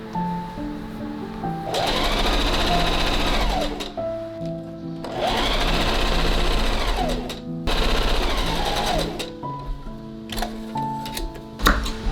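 Sewing machine stitching cozy winter clothing in a small apartment, running in three long steady bursts of rapid needle chatter separated by brief pauses, close and loud with no talking.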